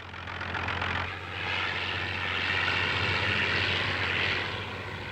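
A propeller-driven party plane flies low over a campaign rally, its engine drone loud and continuous, swelling and easing slightly as it passes overhead, with no voices.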